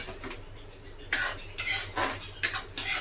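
Crab being fried with pepper in a pan, with a few sharp scraping and clattering strokes of a spatula or spoon against the pan over a faint background sizzle, close and without talk.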